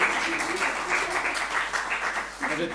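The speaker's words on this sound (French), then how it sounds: "On applaudit" An audience at a speaking event applauds, a steady mid-level patter of many hands heard from some distance, with voices talking faintly underneath.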